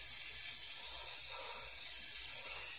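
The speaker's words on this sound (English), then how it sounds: "I spray painted my fingers" Aerosol spray paint hisses steadily from a can while coating homemade decal covers for a Cushman, a quiet, continuous airy rush with no pauses across the whole stretch.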